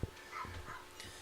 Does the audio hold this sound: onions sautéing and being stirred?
no